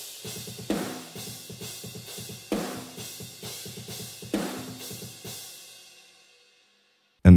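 Metal drum kit captured through a processed far room microphone, giving a big roomy sound: three loud hits with cymbal wash and reverberant tails at a steady interval, with quieter busy drum patterns between, decaying to silence at the end.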